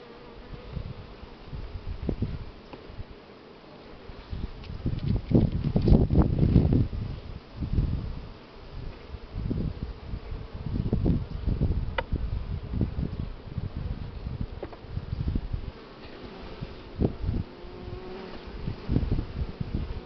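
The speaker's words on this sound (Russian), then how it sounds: "Конечно, пчелки бакфа цветные хорошо уже поработали." Buckfast honey bees buzz around hive frames during a honey harvest, a shifting, close swarm hum with bursts of rustling and handling noise over a muffled background.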